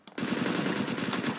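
Rapid automatic gunfire from the top-down battle royale game Surviv.io, a loud continuous burst of close shots starting abruptly and sustained without pause.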